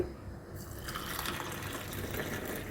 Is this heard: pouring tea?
yes